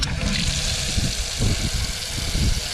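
Water rushes steadily from the tap of a garden potting bench sink, a loud, continuous splashing pour with no voices.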